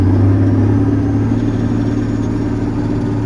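Cummins Big Cam diesel swapped into a John Deere 8630 tractor, running throttled up to 1,000 rpm, a loud, deep, steady engine drone with a low rumbling hum, close by and alone.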